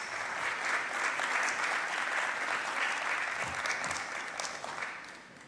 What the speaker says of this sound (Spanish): Me tocaba decir un fuerte aplauso para ellos, pero ya se lo dieron.